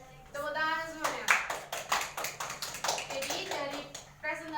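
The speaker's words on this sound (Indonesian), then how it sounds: "Tepuk tangan semuanya." A class of pupils applauding at the end of a group presentation in a microteaching lesson, a burst of close, lively clapping between brief bits of speech at the start and end.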